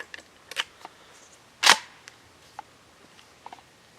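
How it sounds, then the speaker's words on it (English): A Mossberg 500 Tactical Turkey shotgun fires a single 40-yard shot, heard as one sharp, brief crack amid a few small clicks and handling noises. "this is going to be the 40 yard shot. It's going to be the final shot I'm going to take today with this gun."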